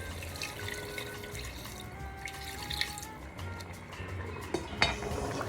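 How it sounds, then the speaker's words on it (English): Warm water is poured into a mutton curry in a pan, with a splashing, trickling pour and a few light clinks of a vessel nearby, and no talking. "Now add 2 cups of warm water."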